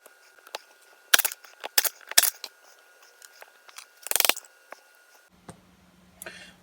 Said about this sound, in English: I like to use my impact driver to just break them loose.